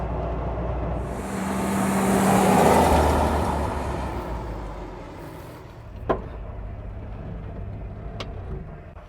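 A 1959 Willys jeep with a wide-track Dana 30 front axle and Dana 44 rear drives along and pulls off the road, a steady engine drone with rumbling wind that swells then settles, with a couple of sharp clunks.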